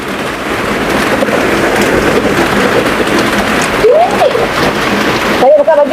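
Heavy rain pours steadily outside a village house, a dense, loud hiss of drops splashing on the ground and surfaces throughout, with brief faint voices and a child's cry near the end.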